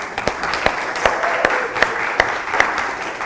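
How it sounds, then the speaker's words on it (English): Class audience applauding after student project presentations, loud close clapping with a few sharp individual claps standing out, with light talk underneath. "a round of applause for everyone here"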